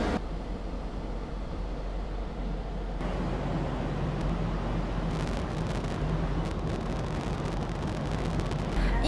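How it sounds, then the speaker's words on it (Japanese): A large overnight ferry's sideways thruster motor runs while the ship docks, a loud, continuous low rumble and churning roar beneath wind buffeting on the microphone, steady throughout with no talking. "横に向かって進むためのモーターなんですかね、エンジンなんですかね、そういうものの音なんじゃないのかなと思います"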